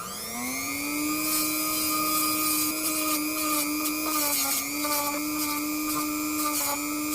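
A power tool fitted with 100-grit abrasive works over a deep wooden sauce spoon, giving a steady, high-pitched motor whine that holds constant for several seconds and wavers slightly as the tool meets the wood.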